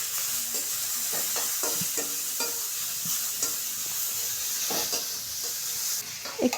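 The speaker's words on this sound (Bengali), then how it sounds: "কড়াই দিয়ে দিব রান্না সাদা তেল, কুচনো পেঁয়াজ, কাঁচা লঙ্কা আর দিয়ে দিব শুকনো লঙ্কা। একটু লাল করে ভাজবো" Chopped onion, green and dried red chillies and grated carrot fry in white oil in a wok, with a constant near sizzle and rhythmic spatula scrapes repeating roughly every half second.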